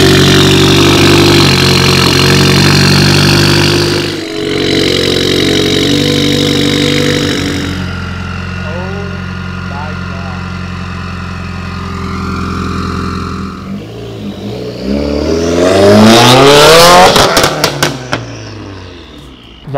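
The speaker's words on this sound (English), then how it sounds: "This is the first ever cold start with the Invidia Catless and ETS Extreme exhaust." A 2015 Subaru WRX fitted with an Invidia catless downpipe and ETS Extreme exhaust fires up from cold, settling into a loud, rumbling high idle before sharp revs climb and fall near the end.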